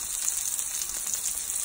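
A Beyond Sausage plant-based sausage frying in a pan gives a steady, close sizzle with crackling bright hiss and small pops, continuous and even throughout.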